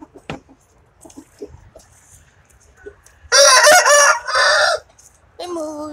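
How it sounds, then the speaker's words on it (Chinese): Nearby chickens cluck softly, then a rooster crows loudly twice in a row, followed by the start of another crow. "哪要过来夹鸡呀？"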